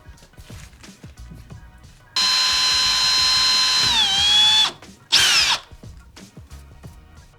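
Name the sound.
drill making hole through flange and wood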